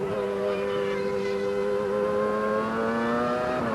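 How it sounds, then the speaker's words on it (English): A 1998 racing car brakes hard into Stowe corner at Silverstone and drops two gears, its engine note a loud, close, continuous tonal whine that shifts in pitch through the few seconds. "On the brakes, down 2 gears."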